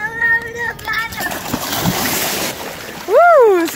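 Splashing as a child jumps into the Ganges River in Rishikesh, India, a brief watery burst amid children's excited voices and shouting.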